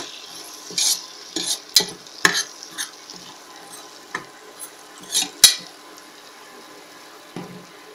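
Ground spice powder of clove, cardamom and cinnamon being fried and stirred in a pan for aloo bath, with scattered spoon scrapes and clinks against the metal over a soft sizzle, close and alone with no talk.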